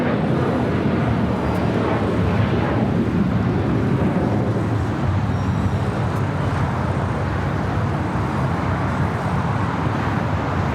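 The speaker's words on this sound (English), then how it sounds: "This is Air France, the delayed flight coming from Paris, flight" An Air France jet arriving at LAX from Paris, a continuous loud roar of engine noise that swells and then steadies across the whole stretch, with no voices.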